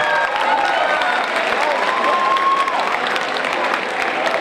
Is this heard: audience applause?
yes